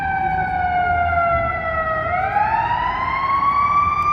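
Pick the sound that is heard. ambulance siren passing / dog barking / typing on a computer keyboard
ambulance siren passing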